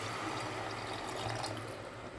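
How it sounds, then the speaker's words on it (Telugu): Water poured into a cooking mutton paya curry, making a soft, steady splashing rush that stays close and even throughout. "వాటర్ యాడ్ చేసుకున్నామండి."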